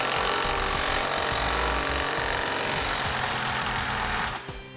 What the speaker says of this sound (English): We can then grab a 19mm socket and snug up all of our hardware.